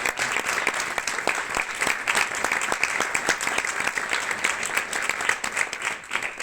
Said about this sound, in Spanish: Dolce Menal, un gran aplauso para ella.